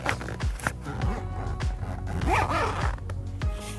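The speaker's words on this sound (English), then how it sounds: "we need to reattach the back zipper." A zipper on an eBike cover is pulled in several short, rasping strokes at close range, with light handling noises in between.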